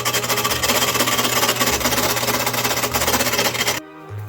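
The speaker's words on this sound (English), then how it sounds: "we're going to take one of these, just one of these panels, and we're going to sew up the front seams." A sewing machine stitching the front seams of a corset panel, a steady rapid mechanical whirring with rhythmic needle clatter that runs loud and close, then stops abruptly near the end.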